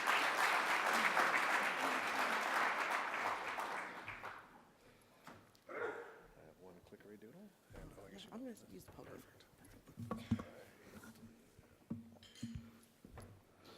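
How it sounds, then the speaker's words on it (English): A summit audience applauds to welcome a pitch speaker from Sitka, Alaska's Sawmill Farm. The clapping is dense and loud for about four seconds, then fades into scattered voices and room noise. "Let's give Bobby a big round of applause."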